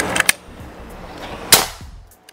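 A Predator Bocap Black Army Phantom PCP air rifle fires two sharp, close shots about a second and a quarter apart, each a crisp crack with a brief tail, in a quiet outdoor setting.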